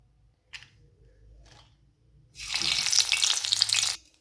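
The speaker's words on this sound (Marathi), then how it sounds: "आता आपण यामध्ये थोड्याशा हिरव्या मिरच्या तळून घेऊयात याच तेलामध्ये" Green chillies, slit so they won't spatter, dropped into hot oil left over from frying onion fritters: after a couple of faint clicks, a loud, crackling sizzle erupts close by and holds for over a second before cutting off.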